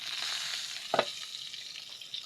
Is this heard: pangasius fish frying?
yes